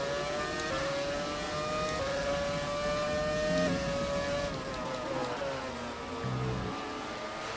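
Ferrari 412T Formula One car engine in the racing game F1 2017, a high whining engine note rising and shifting through gears, steady and fairly faint, with another car's tone layered briefly and no voices.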